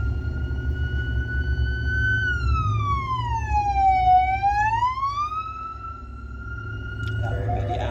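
An ambulance siren passes with a loud, clear wail whose pitch sweeps smoothly down and back up over a constant low traffic rumble; nobody speaks.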